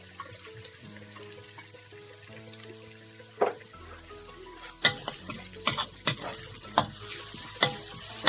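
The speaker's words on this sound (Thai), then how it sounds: "ผัดให้พริกกับกระเทียมหอมหอม" Chili and garlic stir-fried in a pan for Thai basil minced pork: a quiet start, then a run of sharp spatula scrapes and clanks over a soft sizzle, up close with no talking.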